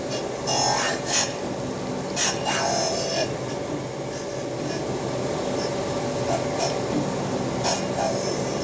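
A grinding tool rubs steadily against an exhaust manifold, a continuous loud rasping scrape with periodic brighter bursts as contact pressure shifts.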